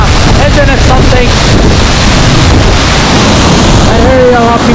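Gljufrabui waterfall in Iceland roars as a loud, close, unbroken wash of falling water, heavily buffeted by wind and spray hitting the microphone, with faint voices underneath.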